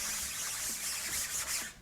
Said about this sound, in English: Take a little dehazer and spray it on the scrub brush